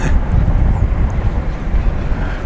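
American Airlines Airbus A320 departing DFW Airport, a steady broadband jet roar that holds loud and constant throughout with no gaps.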